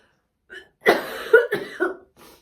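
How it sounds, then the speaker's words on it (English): A short burst of several harsh coughs in quick succession, close by, with a small throat sound just before and a faint trailing one after. "I would like to get rid of this blooming cough for a start off."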